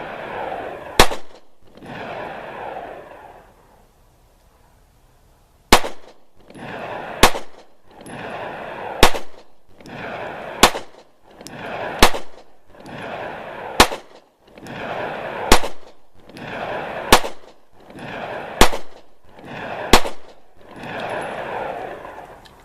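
Taurus PT111 pistol firing white box rounds, a sharp shot roughly every one to two seconds across a string of about twelve, loud and close with brief ringing between, and one longer pause near the start.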